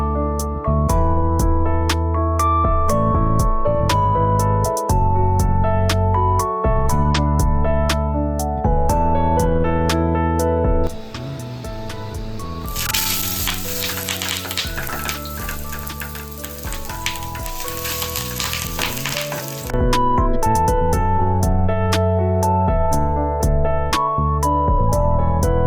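Surmai fish wrapped in banana leaf and tied with thread fries in a little oil in a pan on a gas stove, a steady broadband sizzle rising midway and lasting several seconds beneath loud continuous music.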